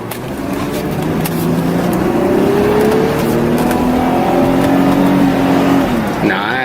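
A 1-owner Audi Cabriolet A6 80 Classic convertible with about 70k miles and a suspected slipping transmission, heard from inside while driving, its engine droning and rising in pitch under loud road and wind roar.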